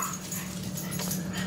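A female dog whimpers and pants close by, a steady breathy whine with faint yips over a constant low hum.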